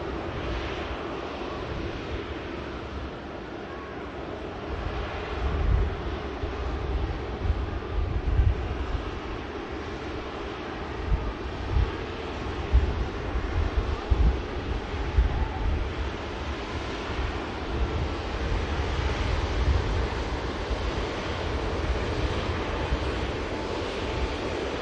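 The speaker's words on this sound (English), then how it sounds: "here comes EK17 to taxi past" An Emirates airliner, flight EK17, taxis past at Manchester Airport. It comes through as a steady, broad rumble with gusts of wind that rises and falls gently throughout, and no voices are heard.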